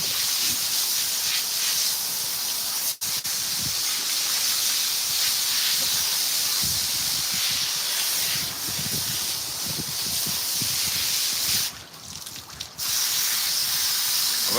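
A hose sprays a continuous loud hiss of water onto an American Pit Bull Terrier at shower time, with a couple of brief breaks in the flow.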